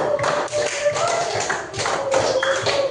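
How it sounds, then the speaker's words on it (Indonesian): A primary school class in a religious education lesson claps hands together in quick rhythmic bursts, close and fairly loud, with brief pauses between the rounds. "Tepuk tangan dulu."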